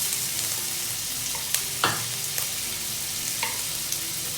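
Finely minced garlic hits leftover hot oil in a wok, oil that earlier fried eggs, and a steady crackling sizzle follows, with a few sharp pops and spatters standing out close by.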